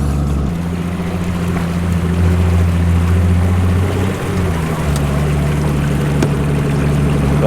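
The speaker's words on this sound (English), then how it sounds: "So we got to turn around, jump up on plane, make it across." Fishing boat outboard motor running steady and loud, a low droning hum with a slight pitch shift midway as the boat climbs up on plane over shallow water, with water rushing around the hull.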